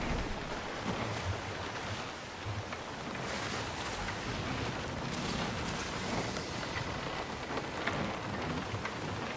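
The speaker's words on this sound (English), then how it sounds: "Well, there's a storm in that direction." Heavy rain pours steadily in a thunderstorm at sea in the game Skull and Bones, a dense continuous hiss with occasional crackling rumbles, moderately loud throughout with no speech.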